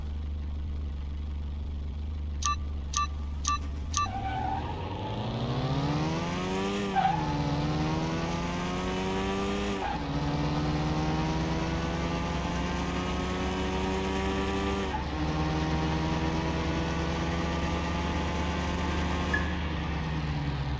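A car engine in the Car Mechanic Simulator 21 video game drag race revs hard and climbs steadily through several gear shifts, each rise followed by a sharp drop, after a few short beeps at the start.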